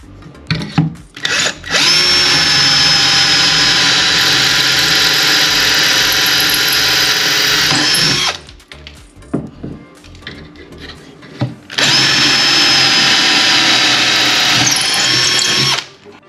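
Power drill boring holes through a cabinet door that is clamped in place for a handle kit. Two long, loud, steady whining runs, each with a squeal, are separated by a pause filled with handling clatter.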